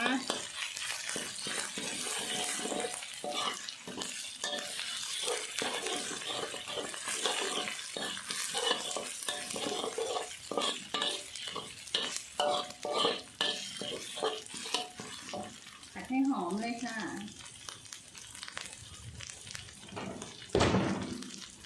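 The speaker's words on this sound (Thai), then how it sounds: "ใส่เครื่องแกงลงไปเลยค่ะไฟอ่อนๆนนะคะ ไฟอ่อนที่สุดเลยแล้วก็ผัดให้หอมเลยนะคะ" Thai curry paste is stir-fried on the lowest heat for a red tilapia dish, a soft sizzle with repeated scraping spatula strokes against the pan and a brief voice-like sound near the end.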